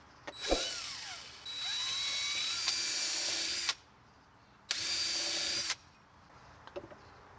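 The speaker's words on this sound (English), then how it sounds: "we'll pre-drill our holes" A power drill pre-drills screw holes through a fence bracket into wood, running in two steady whirring bursts of about three seconds and one second, close and loud, with a short rev at the start and no talking.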